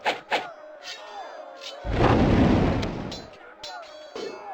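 Artillery fires in the fantasy battle game Warhammer: Shadow of the Horned Rat, a loud, rumbling blast lasting over a second, with short voiced shouts and clicks before and after.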